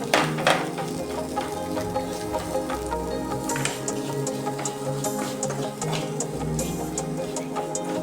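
Spatula stirring turmeric, coriander, chilli powder and garam masala through hot oil in a pan for Kerala kadala curry, with steady sizzling and scattered scraping ticks throughout, close and fairly loud.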